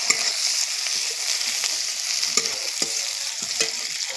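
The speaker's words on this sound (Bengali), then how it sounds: "তাই আমি একটু কড়াইতে নেড়ে দিচ্ছি পেঁয়াজটা" Onions fry in a wok with a constant bright sizzle, while a spatula stirs and scrapes at intervals, several sharp clicks over the hiss. The sound is close and moderately loud, with no speech.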